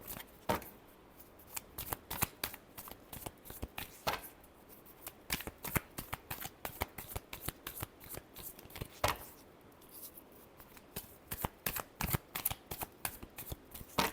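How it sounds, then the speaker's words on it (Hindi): Tarot cards are shuffled in rapid riffling bursts, a dense run of crisp flicks and snaps with brief pauses between passes, close and continuous without speech. "last shuffle"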